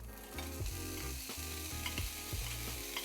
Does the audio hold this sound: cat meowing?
no